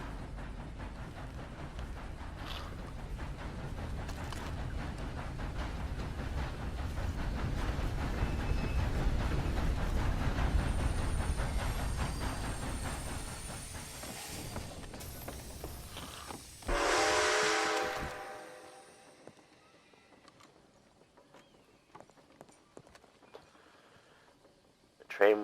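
Train at a station in a video game, a long rumbling roll that swells and fades, then a loud hissing burst of air brakes and scattered clanks.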